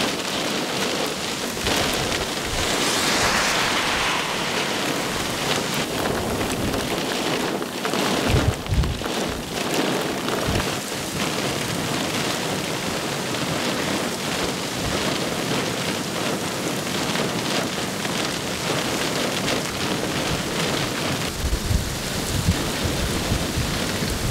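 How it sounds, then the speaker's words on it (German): Heavy rain from a supercell thunderstorm in Germany pours down continuously with strong wind roaring through it, and a few low rumbling thunder bursts break in along the way. "Nur Regen und starker Wind kommen aus dem Gewitter."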